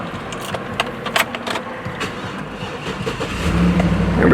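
A GMC Yukon XL Denali with a 6.2-liter engine being started: a few clicks and rattles, then the engine catches and settles into a steady, close rumble at the end.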